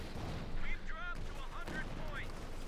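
A Pershing tank shells the enemy during a Company of Heroes 2 match, a burst of gunfire-like blasts and booms under a commentator's continuous talk.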